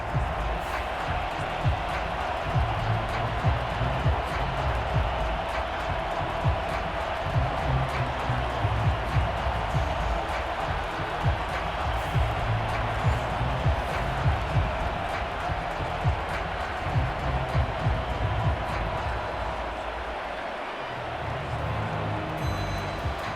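Stadium crowd at an NFL football game between the Denver Broncos and Las Vegas Raiders, a steady broad roar that swells with scattered cheers throughout, heard alone without speech.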